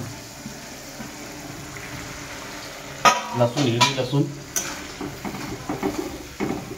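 Green garlic frying in a tadka for Bombay pav bhaji, a soft sizzle that breaks into louder bursts of crackling and spluttering with stirring and pan clatter midway, continuing in uneven pulses.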